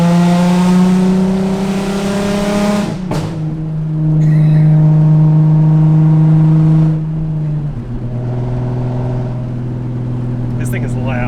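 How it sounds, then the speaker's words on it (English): A Nissan 350Z with blast-pipe exhaust droning loudly from inside the car as it slows, the engine note stepping down in pitch, with a voice talking over it. "I'm like not intentionally burbling, it's just doing it"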